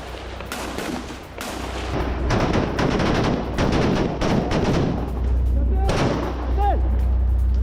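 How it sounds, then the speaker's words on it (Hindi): IDF soldiers fire machine guns in Gaza in rapid repeated bursts of sharp reports. A news narrator talks over the gunfire, and a low rumble builds toward the end. "IDF सैनिकों की ताबड़तोड़ फायरिंग भी जारी है।"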